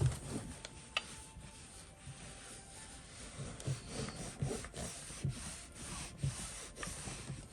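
An iron glides and presses over sewn patchwork fabric on a board, soft rubbing swishes with faint periodic thumps, quiet and close with no talking.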